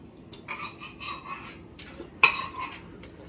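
Spoons and dishes clinking while food is served at a home family function, a few light metallic taps and scrapes with one sharper clink, close and moderately quiet.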